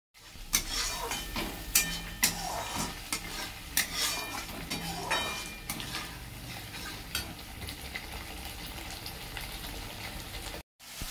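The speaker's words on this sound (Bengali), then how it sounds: "মশলা সম্পূর্ণভাবে কষে গেছে" Spices stir-frying in a pan with water for a Bengali fish curry with cauliflower, a spatula scraping and clinking repeatedly over a soft sizzle, close and busy, then a brief cut near the end.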